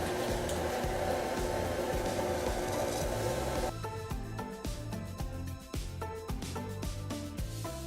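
Electric mixer running on low speed through red velvet cake batter, a steady loud motor whir that continues throughout, with the tone shifting partway as ingredients are added and faint scraping and knocking over it.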